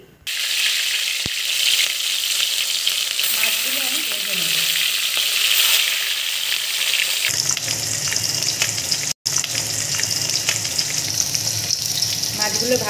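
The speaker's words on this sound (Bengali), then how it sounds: "মাছগুলো ভাজা হয়ে গেছে।" Catla fish frying in hot oil in a wok gives a loud, steady sizzle and crackle that runs throughout, with a brief sharp break near the end and stirring clatter mixed in.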